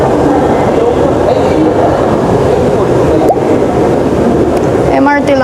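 Steady rumble of a Singapore MRT train in motion, loud and continuous with a brief screech near the end, as a rider travels toward Telok Ayer; a faint voice talks in the background.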